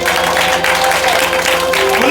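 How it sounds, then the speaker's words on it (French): A church congregation applauds during worship, steady dense clapping under a sustained musical backdrop and voices, loud and continuous throughout. "On applaudit la présence de Dieu parmi nous."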